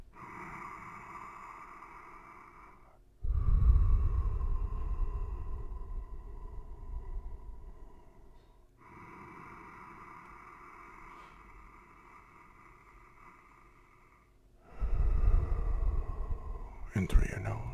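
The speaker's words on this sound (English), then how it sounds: "In through your nose and out through your mouth." Slow guided breathing, air drawn in through the nose and let out through the mouth, forms two loud breathy rushes over soft background music.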